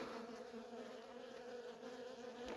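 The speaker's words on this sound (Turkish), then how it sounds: "Arı çok kalabalık." Dense, steady buzzing of many honeybees close by at a crowded hive, a continuous droning hum with no pauses.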